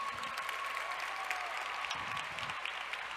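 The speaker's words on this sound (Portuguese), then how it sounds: "por favor, palmas para minha assistente." Audience in a Portuguese-language physics optics class applauds a volunteer assistant joining the presenter on stage, a steady dense wash of clapping lasting throughout without speech.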